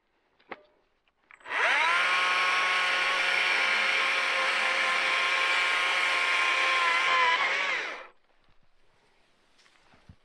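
A Stihl chainsaw cuts and trims a freshly felled Christmas tree high in the mountains at 10,000 feet. One loud, close, steady engine whine runs about six seconds, starting and stopping abruptly, with no talking.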